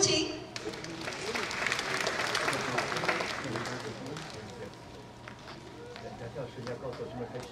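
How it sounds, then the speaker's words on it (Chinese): Audience applause at a Chinese New Year gala performance in Seattle, a dense steady wash of clapping that swells early and then tapers slightly, with some crowd noise mixed in. "掌声有请。"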